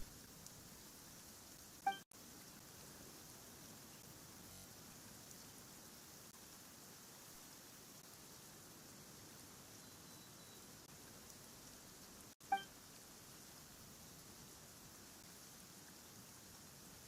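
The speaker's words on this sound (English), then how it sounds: "Why is it raining all of a sudden?" Steady rain falls in the video game Genshin Impact, a faint, even hiss of rainfall that continues unbroken, with two brief clicks and no talk.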